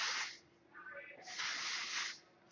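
A hairspray bottle from a gold can sprays in two bursts of airy hiss, close and fairly loud, separated by a short gap where faint voices murmur.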